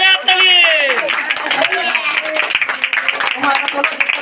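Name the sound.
loud clapping at a birthday party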